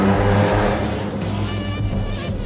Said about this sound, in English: God damn, this car's too loud.